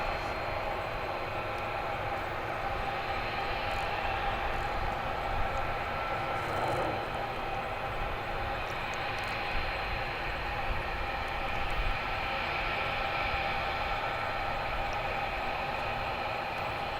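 An Airbus A300 airliner at DFW International Airport makes a continuous broadband jet rumble and whoosh, even in level and sustained for the whole stretch, heard at a distance with no voices over it.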